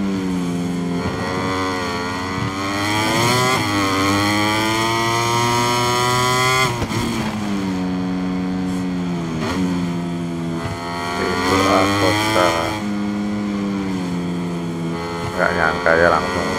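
Loud KTM MotoGP motorcycle engine in a racing video game, set at Le Mans, roaring and revving through gear changes, rising and falling in pitch over continuous racing noise.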